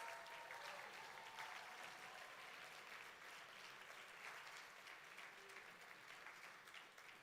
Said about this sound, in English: Let's give another round of applause for the very first Intergenerational